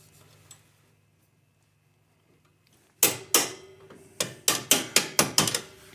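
Metal clamp being fitted back onto a bolt on a BMW Airhead motorcycle shifter: a run of sharp, close metallic clicks and taps, first two spaced apart and then five in quick succession after a quiet start.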